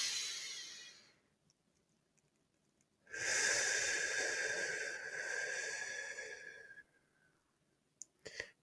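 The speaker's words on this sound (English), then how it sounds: "So let's do a couple of breaths together." Slow, deep breaths taken as a relaxation exercise: a long, steady airy inhale or exhale lasting several seconds, close and fairly loud, between quiet pauses, with a couple of short clicks at the end.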